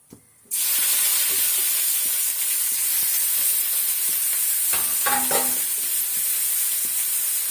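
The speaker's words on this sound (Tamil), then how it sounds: "இந்த பக்கம் கடாயில் வந்து நான் எண்ணெய் ஊற்றி இறா வச்சுருக்கிறேன்" Prawns fry in hot oil in a kadai, a loud, continuous close sizzle that bursts in suddenly after a brief quiet start and holds steady, with a few sharper crackles midway.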